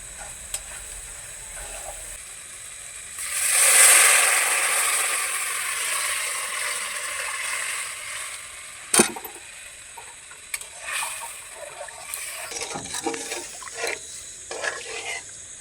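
Hot water is poured into a pan of fried tomato masala to make gravy. A loud hissing sizzle swells briefly, then settles into quieter bubbling with a few clinks and scrapes of stirring, close up with no talk.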